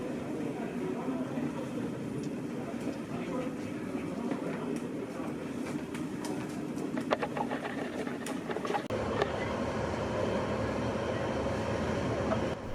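Steam locomotive 71000 Duke of Gloucester hauling steam-age coaches, a steady rumbling run with rhythmic clanking and metallic rattles, moderately distant and fairly faint throughout.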